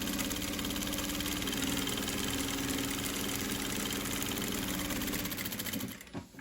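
A domestic sewing machine runs a steady straight seam with no backstitching, a continuous close whirring hum that holds evenly for about six seconds before stopping abruptly at the end.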